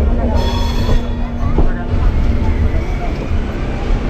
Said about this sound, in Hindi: धीरे धीरे प्लेटफॉर्म से निकलती हुई अपनी गंगा कावेरी एक्सप्रेस।